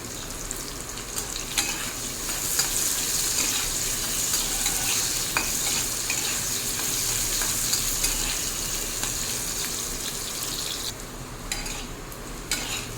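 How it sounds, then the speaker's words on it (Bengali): Salted potatoes frying in oil in a pan, a steady close sizzle throughout with occasional stirring scrapes and clinks of utensils. "এবার এই একই তেলে ভেজে নেবো আলু"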